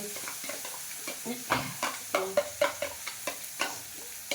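Onions dropped into hot oil for a Gujarati olo, sizzling and crackling with a run of rhythmic scraping stir strokes, close and fairly loud, with no talk over it.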